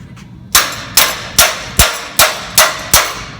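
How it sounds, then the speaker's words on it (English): Seven sharp, evenly spaced hammer blows ring out on a steel piece clamped in a vise at a forge, each a bright metallic clang with a short decaying ring, loud and close with no talk. "Hammer it closed a little bit."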